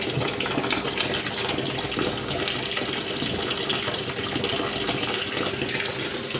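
Water pours steadily from a tap into a Proclean washing machine drum, a continuous loud rushing fill with no voices over it.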